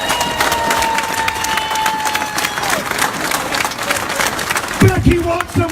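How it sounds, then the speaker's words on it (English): A crowd at an outdoor speech in Birmingham breaks into sustained applause and cheering, dense and continuous, with voices calling out over the clapping. "Give Becky a round of applause."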